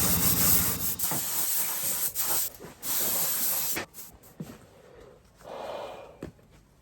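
Spray gun laying a dry coat of paint onto the firewall of an FJ40 Land Cruiser, a close steady hiss in several bursts separated by short pauses, with a softer, quieter final spray.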